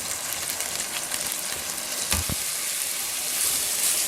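Strained rice sizzles and fries in hot ghee in a pan while making sweet zarda rice, a dense, continuous crackle heard close up, with a brief stir partway through.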